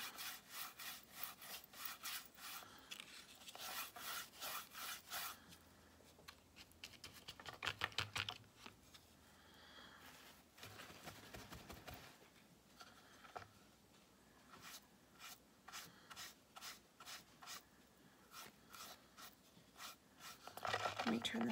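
Brush strokes applying paint to a wooden farmhouse-style cake stand, heard as repeated close, dry rasping swipes in quick back-and-forth bursts with short pauses between passes.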